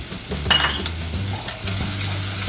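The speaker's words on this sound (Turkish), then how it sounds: "Birazcık da bu şekilde kavuruyorum." Sliced green peppers and garlic are sautéed in a pot for a minced-meat tarhana soup: loud, close sizzling broken by a few sharp spoon-stirring clatters.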